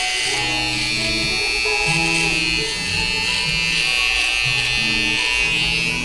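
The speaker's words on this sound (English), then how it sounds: "So he started with the razor, the mechanical razor, the machine razor, to make the hair just like the first shave" An electric machine razor shaving hair in a barber shop, a steady close buzzing hum that runs continuously throughout with slight changes in tone as it moves over the head.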